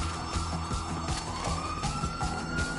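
An ambulance siren wails in a video game, its steady electronic tone sounding loud and continuous over a busy background of engine and game noise, with no voices over it.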